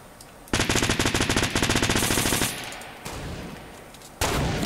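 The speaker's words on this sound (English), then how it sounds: "I'm shooting his wall down" Rapid automatic gunfire in Fortnite Battle Royale, a loud burst of evenly spaced shots aimed at an opponent's built wall, followed by softer game sounds and another loud hit near the end.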